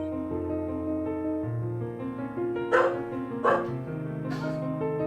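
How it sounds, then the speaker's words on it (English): A dog barks indoors three sharp times at a person laughing in another room, the barks rising over steady video game music with no talk. "And now Dio's barking at her"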